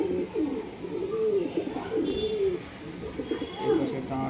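A heavy, close-cropped-tail pigeon coos close by in several rising and falling bursts, each a low warbling phrase with short gaps between, and other birds chirp faintly behind.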